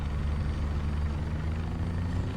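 A simulated OH-6A Cayuse helicopter turbine spools up inside a flight-simulation game, a steady low droning hum with tonal bands, moderately quiet and unbroken, with no voices.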